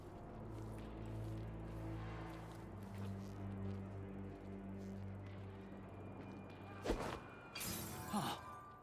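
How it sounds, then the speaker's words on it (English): A glass bottle shatters with a sharp crash in the video game Dishonored 2, a brief bright break heard over a steady low game hum and background ambience. "That sounded like broken glass"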